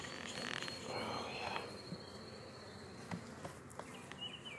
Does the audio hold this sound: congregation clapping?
no